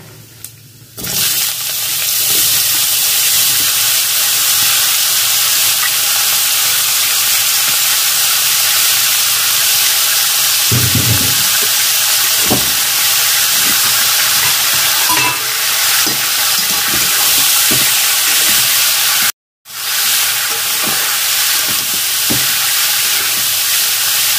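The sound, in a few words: bottle gourd frying in hot oil after tempering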